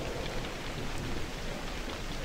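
Steady rain pours down in the video game Novus Inceptio, a dense continuous hiss of drops on surfaces with no voices, even and unbroken throughout.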